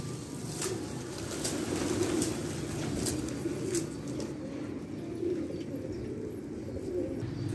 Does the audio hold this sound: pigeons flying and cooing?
yes